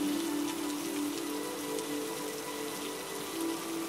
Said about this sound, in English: Visualize the raindrops falling gracefully around you